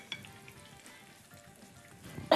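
Soft, steady sizzling and crackling of chard fritters frying in oil in a pan, faint and close, with a louder clatter at the end.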